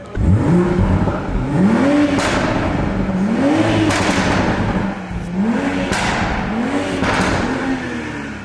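A car decked out in Christmas lights revs its engine again and again, up close, with the pitch climbing and falling in repeated rises about once a second.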